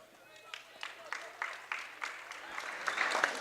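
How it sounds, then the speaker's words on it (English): Crowd applause fills a high school boys basketball gym as a senior player comes off the court, building in scattered bursts while a commentator talks over it. "Lambert coming off to a big applause from the crowd."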